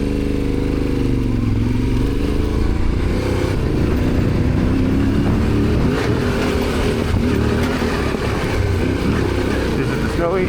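A Yamaha Tenere motorcycle turns around and rides off on a snowy alpine road in France, its engine droning loud and continuous with rising revs, mixed with heavy wind rush.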